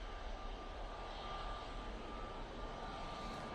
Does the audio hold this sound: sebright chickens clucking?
no